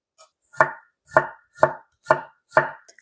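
A knife mincing thick slices of ginger on a cutting board, five evenly spaced firm chops landing about half a second apart, close and crisp with no voices.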